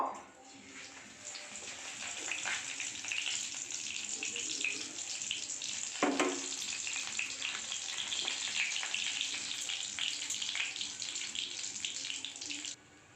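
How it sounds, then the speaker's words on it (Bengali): Whole cumin seeds sizzle steadily in hot oil in a kadai, a continuous bright crackling hiss with a brief louder burst midway, heard alone without talk throughout. "প্রথমে গোটা জিরে অল্প ফোড়ন দেব"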